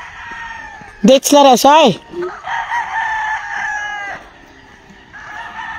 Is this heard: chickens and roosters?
yes